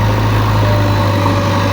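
A JCB excavator's diesel engine running steadily while pulling out a tractor, a loud, constant low hum and drone close by, with no change in pitch.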